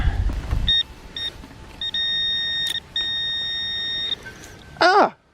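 Metal detector signal tones sound over a coin buried in a field, with repeated steady beeps in short and longer bursts, a warbling chirp near the end, and faint wind or handling noise at the start.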